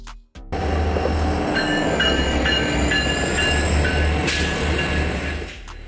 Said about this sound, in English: Diesel locomotive, an engine running on diesel fuel used to pull train consist along railway tracks.